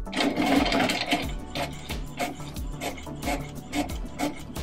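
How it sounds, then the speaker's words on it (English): A printer runs off shipping labels for small-business order packaging, giving a rapid rhythmic mechanical rattle and whir with repeated short pulses, close and fairly loud throughout. "ahead and print these out."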